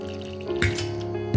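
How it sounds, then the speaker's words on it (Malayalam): Water poured from a vessel into a bowl of rice flour in a home kitchen, a short, close trickle with light dripping and a small splash near the end. "ഇതിലേക്ക് കുറച്ച് വെള്ളം പാർന്ന് കൊടുക്കുകയാണ്"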